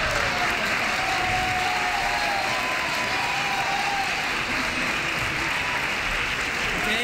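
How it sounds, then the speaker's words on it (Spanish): A live carnival-contest audience at a youth quartet semifinal applauds steadily, a dense wash of clapping with some crowd noise that holds at a constant level throughout. "¿Qué estáis aplaudiendo?"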